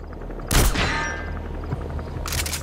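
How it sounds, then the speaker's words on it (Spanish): Gunfire from the stealth action game Metal Gear Solid V: The Phantom Pain: a loud burst of shots with a trailing boom, then a quieter second burst near the end over low ambient game noise. "¿Quién me está disparando?"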